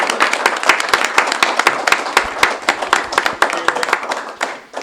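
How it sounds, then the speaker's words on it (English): Audience at a panel session applauding the organizer, a dense, steady round of clapping from many hands that fills the room and begins to thin out near the end. "I just want us all to give Mo a round of applause for organizing today"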